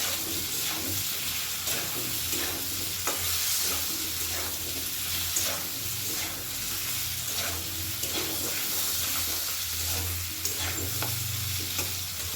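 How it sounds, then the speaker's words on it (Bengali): Turmeric powder and salt being stirred and fried in a pan for a vegetarian elephant foot yam (ol kochu) dish; continuous close sizzling with repeated scraping stir strokes throughout, no speech. "হলুদ গুঁড়ো লবণ আর হলুদ দেওয়ার পরও কিন্তু ভালো করে নাড়াচাড়া করে একটু ভাজা ভাজা মতো করে নেব"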